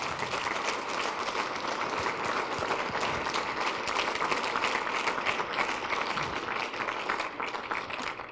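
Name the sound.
applause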